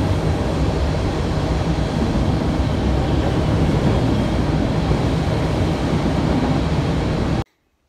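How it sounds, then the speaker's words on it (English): A loud, steady rumble of a train crossing a bridge overhead above the Oostanaula River, rolling on without a break before cutting off abruptly. "the loud noise we heard pass overhead was a train going over the bridge"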